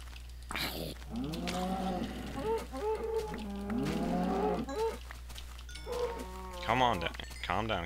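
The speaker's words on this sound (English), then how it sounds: "Calm down, cow." Cows moo in a video game: several drawn-out, tonal lows in a row over a steady electronic hum, fairly close and loud.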